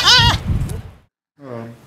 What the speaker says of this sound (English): You crazy goat.